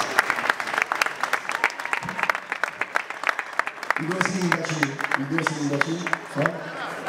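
Audience applause at a band festival during a patron saint's feast in Monte Sant'Angelo, a steady patter of clapping with crowd noise, then a low sustained band chord swelling in under the claps midway.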